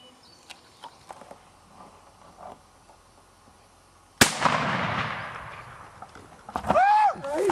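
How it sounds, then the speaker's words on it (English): A single loud, sharp gunshot during a turkey hunt cracks out partway through and decays through the outdoor air after a few faint earlier knocks, followed by an excited voice. "I shot him! I shot a turkey, man."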